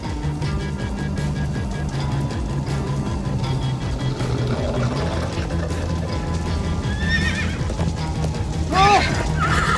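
Horses in the video game Minecraft Story Mode gallop with a constant drumming of hooves and give a few whinnies, the loudest near the end, over busy game sound.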